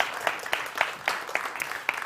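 Scattered clapping from a small audience at a Cardano Summit 2022 event in Norway, a handful of sparse, fairly faint claps spaced out over a couple of seconds, with a murmur of background voices.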